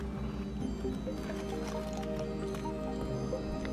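Water carrying springtails pours from a culture container into an aquarium, giving a steady wet, sloshing wash with a low rumble underneath for the whole span, no voices.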